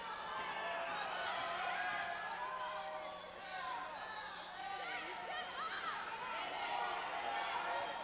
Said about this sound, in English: North Penn crowd calling for Falterbauer to get up